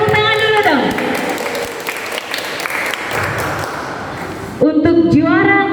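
Children and adults at a Sunday school Easter service applaud a drawing and colouring contest winner with several seconds of lively clapping between bursts of amplified speech.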